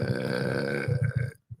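A long, loud, gurgling human burp stretching over about a second and a half, ending abruptly, followed by a brief small sound.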